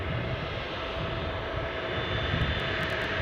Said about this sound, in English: As the pilot increasing the thrust to get a nice injection of noise from those two engines on the Boeing 737